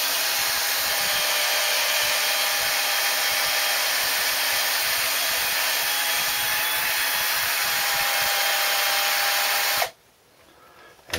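A Briggs & Stratton 5 hp engine valve is polished on a finer grinding wheel, giving a constant loud high whirring hum for about ten seconds before the wheel is lifted off and the sound drops away.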